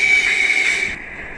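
A double-decker train rolls along in a Skyrail train video game, giving a steady loud rail hum with a sustained high whine that cuts off near the end, leaving a quieter rumble.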